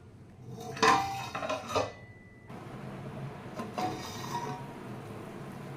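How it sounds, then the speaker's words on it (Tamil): Vegetables for a kurma curry are stirred in a metal pot, giving clattering scrapes of a spoon against the sides early on, then a softer, steadier rattle and rustle, close and with no talking. "இப்போ இதை கலந்து விட்டுட்டு காயெல்லாம் ஒரு பாதி அளவு வேகிற லெவலுக்கு வெயிட் பண்ணுவோம்"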